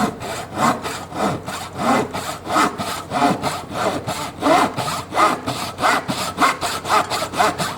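A Japanese Zona 24 TPI razor back pull saw cuts through a massive piece of wood in steady, rhythmic rasping strokes, loud and close, with no talking.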